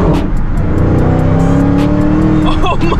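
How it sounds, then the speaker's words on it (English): Dodge Challenger Hellcat accelerating hard at full throttle, a loud, close, rising engine roar with rapid exhaust pulses and a gear change near the end, with a voice over the top. "Let's get you guys a quick pull on the Hellcat."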